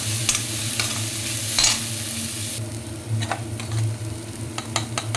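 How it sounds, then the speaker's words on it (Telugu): Chopped vegetables sizzle in ghee for ragi soup, a steady close hiss with a spoon stirring and tapping the pan now and then, no talking. "మన ఇంట్లో ఏ కూరగాయలు ఉంటే అవి కట్ చేసిందని ఈ విధంగా నెయ్యిలో కాసేపు వేయించుకోవాలి"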